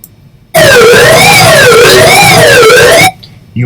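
A loud wailing school alarm siren rising and falling in pitch, sustained for a few seconds, then cutting off abruptly.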